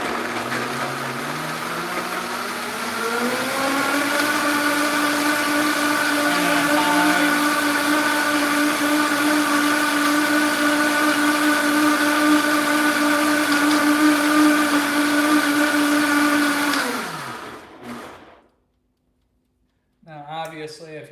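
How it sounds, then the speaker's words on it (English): A blender whirs loudly and continuously, its motor pitch rising as it speeds up from low speed, then cuts off abruptly before a voice begins speaking. "give the blender some juice"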